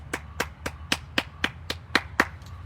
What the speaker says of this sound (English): Let me clap it up for that.